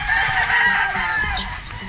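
Battle stag roosters crow loudly and close at a gamefowl farm, their calls overlapping with clucking from other birds.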